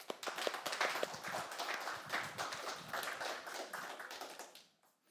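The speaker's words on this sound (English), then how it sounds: "So let's welcome Dima with a round of applause." A small tech meetup audience claps to welcome a speaker, a loose patter of individual hand claps close by that carries on for about five seconds before dropping away.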